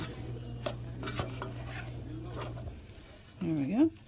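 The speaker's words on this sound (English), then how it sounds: "Stir that around" Chili con carne being stirred in a cooking pot: soft scraping and clinking of a spoon under a steady low hum, ending in a short louder scrape.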